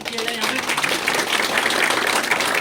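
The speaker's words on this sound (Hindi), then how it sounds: "सो एक बार जोरदार तालियों के साथ सर का स्वागत किया जाए यहाँ" Loud applause from a crowd welcoming a central minister at a gathering of Indian students leaving Ukraine in Slovakia, a dense steady roar of clapping with voices mixed in throughout.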